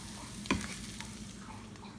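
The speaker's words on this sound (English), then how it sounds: "And give it a little stir." Shrimp fried rice sizzles steadily in a hot pan as a utensil stirs it, with one sharp scrape of metal on the pan near the start over the continuous frying hiss.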